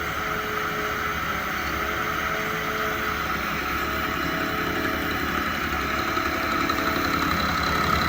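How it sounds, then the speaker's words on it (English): A Union cutter grinder mills a machine bed, giving a steady, loud mechanical drone with a constant vibrating rumble that holds unchanged from start to finish. "So it started milling."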